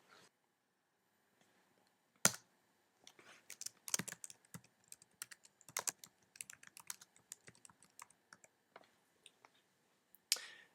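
Typing on a computer keyboard at close range, with irregular bursts of quiet key clicks spread across the stretch and a couple of sharper, louder keystrokes near the start and end.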